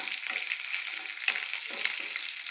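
Garlic and amaranth leaves fry in a pan with cumin for a coconut stir-fry, giving a steady close sizzle with small crackles and a few stirring bumps, no voices.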